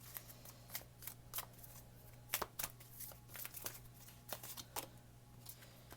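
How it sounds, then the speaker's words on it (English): Tarot cards are shuffled by hand in quick, irregular bursts of crisp riffling and slapping, close and quiet against a low steady hum. "I'm told to shuffle again"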